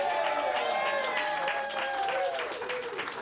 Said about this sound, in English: Can we give Karen a round of applause?